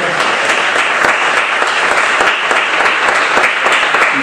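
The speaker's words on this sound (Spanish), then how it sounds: "Un aplauso, por favor." A lecture-hall audience at a philosophy and youth congress in Granada claps steadily and loudly, a dense, even wash of many hands sustained without a break.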